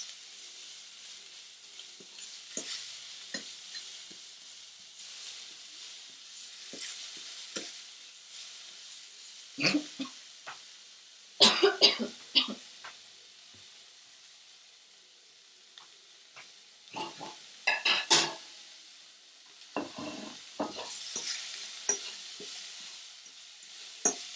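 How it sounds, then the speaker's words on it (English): Lardons frying in their own rendered fat for a pasta in white cheese sauce, giving a soft steady sizzle broken by bursts of stirring and scraping in the pan, with no talk. "So they're actually going to fry and cook in their own fat."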